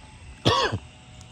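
A single short cough, close and clear, breaks through quiet background noise on a long walk home on foot from a stream.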